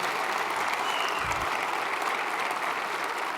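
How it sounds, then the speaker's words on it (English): A crowd claps steadily in a large hall at the opening ceremony of the 29th National Space Symposium, a dense, even wash of applause that carries on throughout. "give yourselves a round of applause for that"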